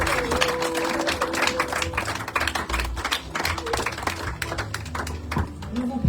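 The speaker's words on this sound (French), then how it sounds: "Applaudissons, s'il vous plaît." A church audience claps in an irregular patter of close, sharp hand claps with a faint tone underneath, gradually thinning out.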